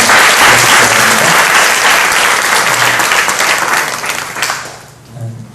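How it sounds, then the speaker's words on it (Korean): A church congregation applauds at a youth worship service, loud sustained clapping from many hands that gradually thins and fades near the end. "우리 항상 큰 박수로 감사합니다"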